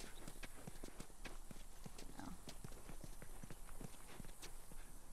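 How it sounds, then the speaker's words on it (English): Rapid, regular footsteps in the video game The Last of Us tap along steadily throughout, close and crisp over a constant ambient hiss, with a single brief spoken word. "Your little footsteps are very annoying."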